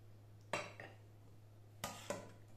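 A metal lid screwed onto a glass jar of freshly made pepper sauce: two pairs of quick, light metallic clinks close by, over a faint steady hum in a quiet kitchen.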